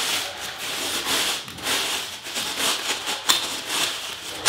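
A wooden screed stick scrapes and taps across mortar while floating a shower pan, knocking lightly against the edge tile, giving a continuous gritty rubbing with small knocks near and close up.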